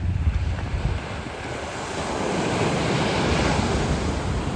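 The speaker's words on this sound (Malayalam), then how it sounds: "ഈ തിര വരുന്ന അത്ഭുതം" Sea waves break and wash steadily onto a shore with a constant roar, while strong coastal wind buffets the microphone throughout.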